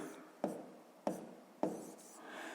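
Fractions written by hand with a pen or marker during a fifth-grade maths exercise: three distinct scratchy strokes spaced about half a second apart, close and soft, with no talking.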